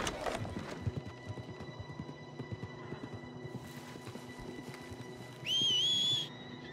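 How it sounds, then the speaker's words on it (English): Horse hooves clip-clop in steady rhythm in the video game Red Dead Redemption 2, moderately loud over a background of ambient game sound, with a brief high whistling tone near the end and no speech. "That's a strong-looking horse."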